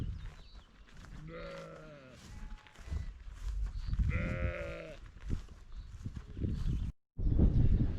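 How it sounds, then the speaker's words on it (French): A flock of ewes on a French farm in June bleating in wavering cries, several calls rising over outdoor shuffling, with a voice speaking intermittently nearby. "on va juste sauter la clôture et on va y aller voir le lot de brebis qui est à côté"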